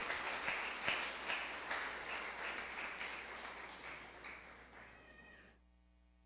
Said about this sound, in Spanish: Aplauda al Señor en esta hora.